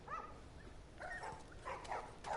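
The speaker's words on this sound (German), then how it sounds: "Oh, gibt's Hund?" A dog in The Last of Us video game gives several short yips and barks, moderately faint and spaced out over a quiet background.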